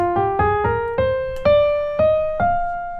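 A bright synth plays a short stepwise melody in the Dorian mode, evenly spaced plucked notes rising gradually, clean and alone.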